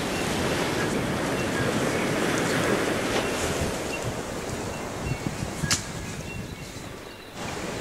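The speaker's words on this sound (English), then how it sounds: "You can hear the ocean." Ocean surf breaks steadily along the New Zealand coast where Fiordland penguins live. A continuous wash of waves is mixed with wind buffeting the microphone, plus a few faint clicks.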